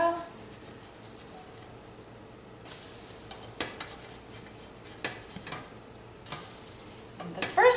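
Millet flax buttermilk vegan pancakes frying in a pan, a steady soft sizzle broken by several louder bursts of scraping and sizzling as a spatula works under them and turns them over, close and without talk.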